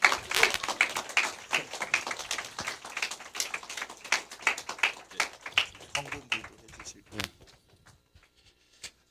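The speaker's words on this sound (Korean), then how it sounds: "우리가 큰 환영의 박수로 할렐루야 환영해 주시면 감사하겠습니다." A church congregation at a Christmas service claps in welcome, a brisk burst of applause that gradually thins into scattered claps and fades to near silence.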